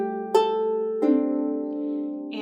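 Harp plucks a few clear, sustained notes from a simple beginner piece, each tone ringing out and overlapping the next, soft and close with no one speaking.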